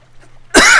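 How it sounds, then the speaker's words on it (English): A single loud cough in a Sims 3 game, bursting in after a quiet stretch and sustained as a harsh, close rasp, with no talk. "Excuse me, I still have the cough."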